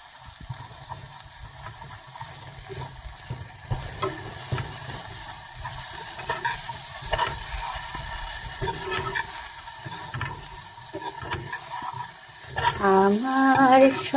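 Turmeric-spiced curry of sponge gourd and dried fish frying in a pan, a continuous moderate sizzle with occasional stirring scrapes, and music with a singing voice rising near the end.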